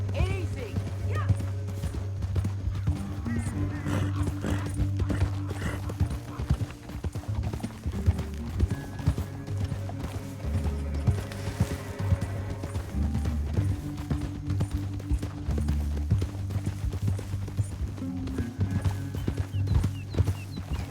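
Horse hooves clip-clop steadily in a Red Dead Redemption 2 canyon ride, a continuous rhythmic trot under music and occasional voices.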